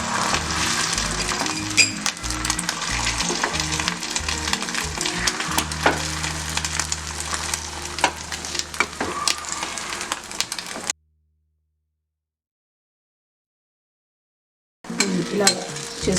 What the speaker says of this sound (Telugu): ఇలా ఆమ్లెట్ లాగా వేసుకోవాలి.